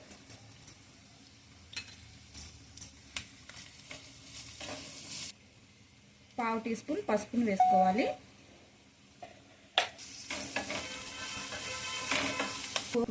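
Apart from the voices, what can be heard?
tempering spices frying in pan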